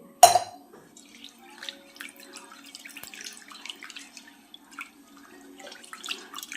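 Lentils being rinsed in water by hand, one sharp splash followed by soft, steady trickling and sloshing close by.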